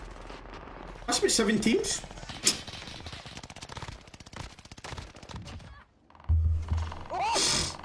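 Video game gunfire plays in rapid automatic bursts and scattered single shots, loud and close, while players talk over the shooting.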